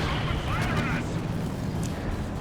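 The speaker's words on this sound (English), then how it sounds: "he's bombarding them mercilessly with his mortars here" Mortar bombardment in the WWII strategy game Company of Heroes 2: a dense, continuous roar of blasts and rumbling impacts fills the whole stretch, loud and close, with a hissing whistle early on.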